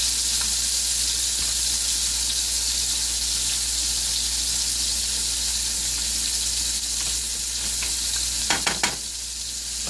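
Hot pepper and its seeds fry in a pan for shakshuka, a steady close sizzle under a low hum, with a few sharp clatters of a utensil near the end.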